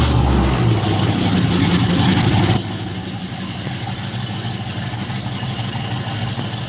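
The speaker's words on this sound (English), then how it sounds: "I'm going to turn on this truck real quick so you can kind of hear it." A truck engine with a stainless steel exhaust runs loud and close, then drops to a steady, lower idle rumble after a couple of seconds.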